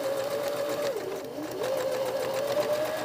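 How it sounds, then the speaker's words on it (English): A sewing machine stitches a jacket lining to the jacket hem, running in a continuous close whir whose pitch dips briefly as the speed slows, then picks back up. "I'm just sewing these two together"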